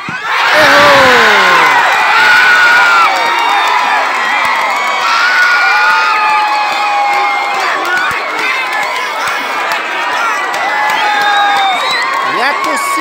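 Football crowd at an amateur cup final penalty shootout cheering and shouting loudly, a dense roar of voices with whoops and high calls that holds steady throughout.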